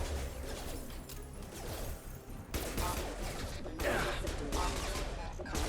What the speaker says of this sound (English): they're literally shooting at me